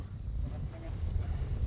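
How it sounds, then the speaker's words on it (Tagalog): Strong wind buffets the microphone on an outdoor hiking trail, a steady low rumble running continuously from start to finish with no break. "Lakas ng hangin dito."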